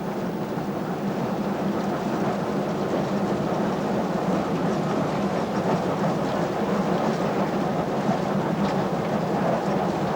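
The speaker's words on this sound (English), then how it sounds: "To feel these locos really canter along, a visit to the albeit crowded footplate was essential." A Pakistani steam locomotive working hard, heard from its crowded footplate as a continuous loud roar and rumble of motion and rail noise, steady for the whole stretch with no talk.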